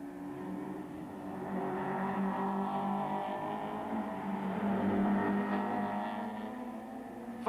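Super Touring race cars, BMWs among them, streaming past the pits at Kyalami in 1994, a sustained engine drone that swells toward the middle and fades, heard at some distance.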